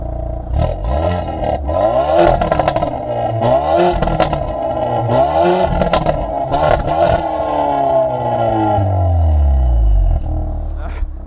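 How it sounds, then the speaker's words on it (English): Exhaust of a 2022 Hyundai Veloster N with dual-clutch transmission in N mode, recorded close behind the tailpipe: loud repeated revs rising and falling, each followed by sharp crackles and pops, with deep rumbling between bursts. "doesn't that sound amazing? All that crackling and popping, just a cool little vehicle."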